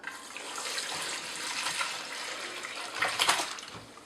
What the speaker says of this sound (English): And pour it into a strainer.